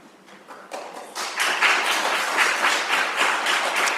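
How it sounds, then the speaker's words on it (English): Audience applause fills a hall at a California climate change projections event, building from a few scattered claps into steady, dense clapping from a sizable crowd with no talking over it. "You're clapping already?"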